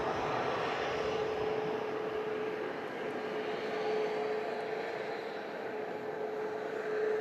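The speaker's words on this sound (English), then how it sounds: "the Scandinavian over on the southern runway. Begins the departure roll" An SAS airliner rolls down the southern runway on departure, its jet engines holding a loud, steady roar with a faint tonal whine across the whole stretch, and no voices.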